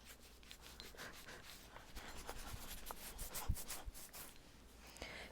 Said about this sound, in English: You can also give your scalp a rub like a dry shampoo.